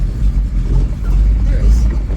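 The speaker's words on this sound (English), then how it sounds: "I think there's a car coming." A car passes on a wet rural road in the rain, a steady low engine and tyre rumble heard from inside another vehicle, with a voice talking over it.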